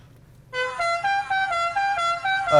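A car horn honks in a few short, close, loud bursts, repeated over about two seconds after a brief quiet start.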